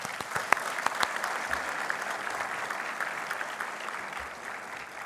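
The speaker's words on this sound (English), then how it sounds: "Please give them a big round of applause." Audience applause fills a graduation convocation ceremony, steady dense clapping with a few sharper nearby claps, sustained throughout without speech.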